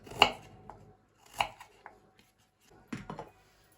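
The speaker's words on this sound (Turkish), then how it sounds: "Ayvalarımızı da böyle doğrayacağız." A knife chops through firm quince on a board, a few separate crisp cuts with pauses between them.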